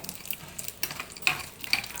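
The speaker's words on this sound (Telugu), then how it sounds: "ఈ విధంగా కొంచెం ఆయిల్ పోసుకొని పోపు గింజలు, మినప్పప్పు, శనగపప్పు," Mustard seeds, urad dal and chana dal crackle and sizzle quietly in a little hot oil, with tiny pops scattered through a steady faint fizz.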